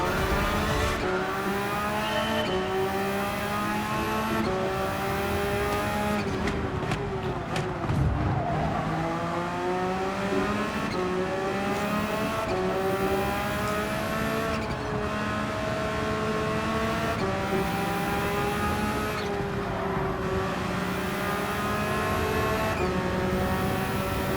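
Race engine of a 2022 Porsche 911 GT3 R (992) in Gran Turismo 7, sustained and loud, rising and falling through gear changes with brief tire squeal, other cars audible around it.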